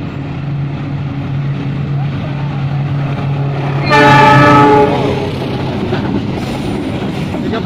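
A coal freight train rumbles past close by at night in Indonesia, with a loud horn blast midway over the steady rolling noise.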